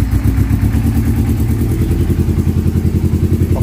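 Kawasaki Ninja 250 Fi motorcycle engine cranking over and running with a loud, close, rhythmic mechanical clatter that continues throughout.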